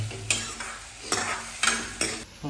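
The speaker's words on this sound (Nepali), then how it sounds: "यो दाललाई चाहिँ टक्कै हाल्यो, तड्का बन्यो" A spoon scrapes in regular strokes through a pan of dal for a simple home meal made without garlic or onion, with a soft sizzle of tempering running underneath each close, rhythmic stroke.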